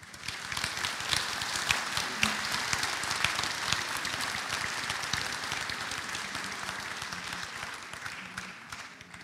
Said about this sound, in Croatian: Molim vas da ga pozdravite i da mu zahvalimo još jednim velikim pljeskom.